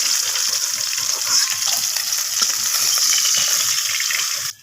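Pieces of fish frying in plenty of hot oil, a loud continuous hiss and crackle with dense popping that holds steady before cutting off abruptly at the end.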